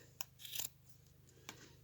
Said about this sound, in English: And then I'm just going to cut all of these.